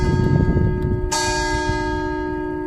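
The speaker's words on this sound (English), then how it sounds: "oh, church bells." Church bells in the hilltop town of La Morra, Piemonte, ring with a sustained resonant hum, and a fresh strike about a second in produces a bright clang that lingers and slowly fades.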